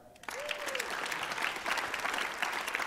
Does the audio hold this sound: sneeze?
no